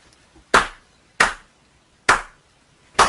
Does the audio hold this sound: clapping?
yes